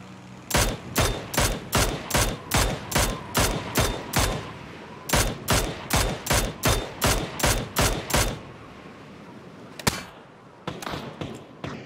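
Rapid bursts of video game gunfire fired from a glider, loud evenly spaced shots in two long volleys, then a lone sharp report and a few scattered fainter hits.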